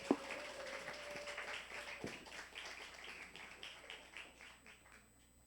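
Audience applause at a church performance event: soft, scattered clapping in a hall, starting with a sharp clap and then thinning out and fading toward the end.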